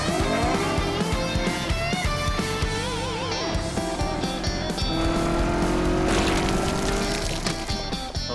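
An animated dinosaur vehicle from a French cartoon accelerates with a loud, continuous engine-like roar and a squealing rise, mixed into busy, swelling music throughout.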